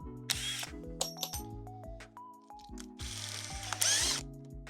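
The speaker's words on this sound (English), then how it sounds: "I need to set a pilot first. So I make a pilot hole first." A power drill bores a pilot hole into a wooden pallet board, its motor whirring in short stepped bursts with pitch changes and brief pauses, close and clear with no talking.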